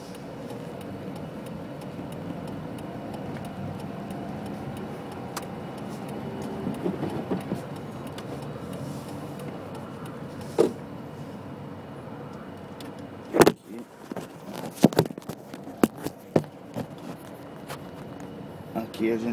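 Slow road traffic moves along a city avenue, a continuous low rumble of passing cars heard from inside a vehicle, with scattered clunks and sharper knocks toward the end.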